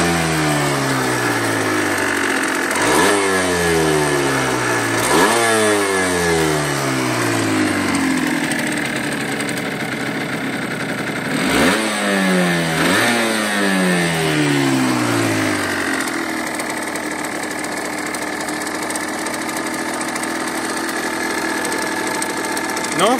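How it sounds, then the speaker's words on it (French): A Yamaha TDR two-stroke motorcycle idles loudly nearby and is blipped several times, each throttle stab rising into a sharp revving whine and falling back, with the engine then settling into a steady idle. "On va voir ensemble quelques coups de gaz"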